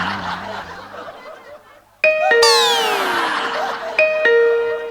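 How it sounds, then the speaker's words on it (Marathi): A doorbell effect played on a comedy stage show rings out as bright electronic chimes twice, with a sweeping descending tone between them, after a moment of quiet murmuring. "जरा बेलचा आवाज काढ रे"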